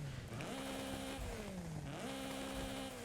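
An Acura car engine in the video game Forza Horizon 5 revs up twice, each rise in pitch followed by a slow fall, with a steady loud engine drone throughout.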